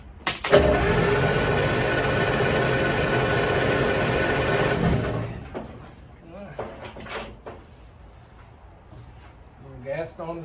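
A 1936 Ford flathead engine cranks and catches, running loud and steady for about five seconds before cutting out abruptly, followed by quiet clanks and shuffling in a garage.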